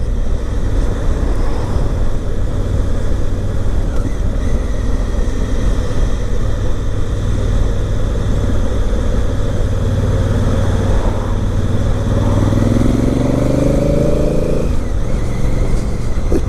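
A 2017 Honda Africa Twin motorcycle engine while riding on a daily commute, a continuous close droning rumble with wind roar, rising in pitch as it accelerates through the gears near the end.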